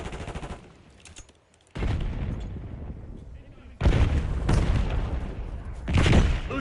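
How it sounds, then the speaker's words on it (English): A frag grenade thrown in Call of Duty Black Ops 6 is followed by loud, heavy blasts and bursts of gunfire that come in several booming waves amid a dense battle mix, with voice callouts mixed in. "Throwing frag."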